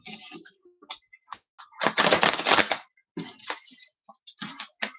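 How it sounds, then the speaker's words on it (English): Tarot cards being shuffled by hand, with quiet crisp riffling and clicking in short bursts and one longer rustling riffle in the middle, close and soft with pauses between. "We do a little shuffle here."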